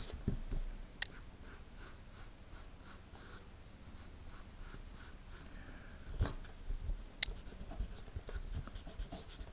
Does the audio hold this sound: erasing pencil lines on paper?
yes